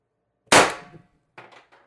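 A single sharp, close crack from a TR50 CO2 air rifle on a 90 g CO2 supply, followed by a couple of faint metallic clinks as the pellet strikes downrange.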